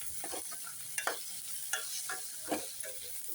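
Tomatoes sautéed with already-softened onions in a pan make a soft, low sizzle, broken every second or so by short stirring scrapes and taps of a spoon, with no voices.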